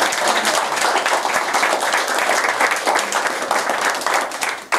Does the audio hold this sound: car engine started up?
no